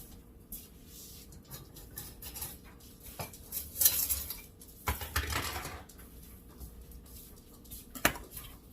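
A whisk clatters against a bowl while blending a dry cinnamon and ginger spice mix for apple fritters, with irregular metallic ticking and scraping and a few louder bursts, close and moderately quiet.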